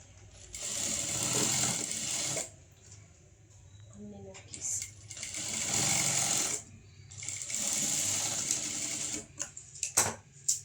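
A sewing machine stitching a blouse sleeve runs in three steady whirring bursts of a few seconds each, separated by short pauses with small clicks and faint voices.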